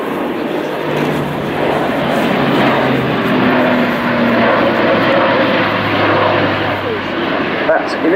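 An Airbus A400M turboprop airlifter flies a solo display at RIAT 2013, a steady distant propeller-engine drone with a slowly shifting pitch, heard under a commentator's voice.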